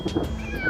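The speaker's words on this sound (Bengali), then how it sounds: "পুতুল বিড়ালটা ডাকছে" A cat meows once, a short, clear cry heard up close and standing alone.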